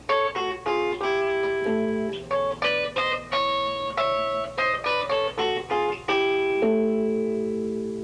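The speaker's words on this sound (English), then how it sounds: "you're playing a bass note as a harmonic" Bell-like guitar harmonics plucked in a quick melodic sequence over sustained low bass notes, clean and close, with a final held chord ringing out.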